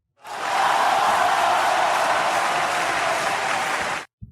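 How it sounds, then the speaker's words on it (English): A short round of applause with crowd noise, a dense burst of many clapping hands and some cheering that swells in quickly, holds steady for about four seconds, then cuts off abruptly. "I'm going to give you this round of applause."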